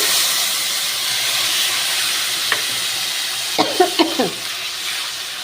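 A ground paste of ginger, garlic, green and dried chilli, onion and tomato sizzles loudly and steadily in hot oil, a broad hissing fry with a few brief faint voice sounds near the end.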